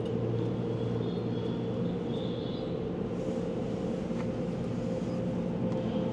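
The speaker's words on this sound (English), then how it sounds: "let's take it to the car wash" Automatic car wash heard from inside a Tesla Model 3, a steady muffled rumble and hum of machinery and water spray, constant throughout with faint higher hissing sweeps.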